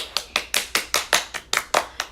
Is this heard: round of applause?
yes